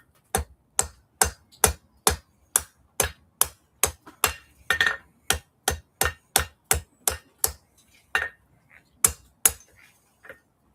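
A hammer strikes a chisel at a blacksmith's forge, shaping a chamfer on its top during axe making: about two dozen sharp, close metal blows land in a steady, even rhythm, with no one talking.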